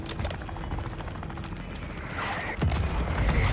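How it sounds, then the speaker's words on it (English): Video game battle with rapid gunfire bursts and impacts during an incoming mortar strike, dense and loud, with a heavier thudding blast near the end. "Mortar strike on the way."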